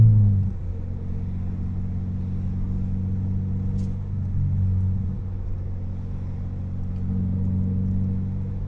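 Lowered Subaru car driving, a steady near engine drone with mild rises in throttle throughout, no voices.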